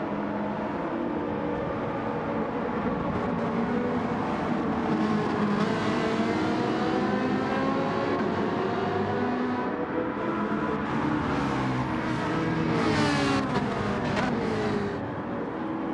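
Race cars in Gran Turismo 7 during a BTCC replica league race, engines droning and revving continuously at high pitch, several cars layered together with rising and falling tones as they battle close by.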